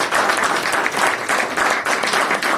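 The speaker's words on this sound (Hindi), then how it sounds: "जो ताली बजा।" An audience claps and applauds steadily throughout, a dense, continuous patter of many hands at close range.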